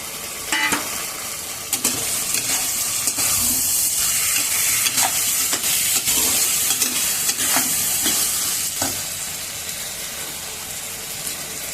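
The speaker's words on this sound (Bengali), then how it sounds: "এবার দিয়ে দিলাম আলু" Potatoes fry in a pan for a vegetarian chhana bora curry, giving a steady close sizzle under repeated scraping and clacks from a stirring utensil against the metal.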